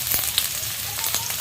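Chopped onions fry in a pan with a close, continuous hiss and soft crackling pops, no voices.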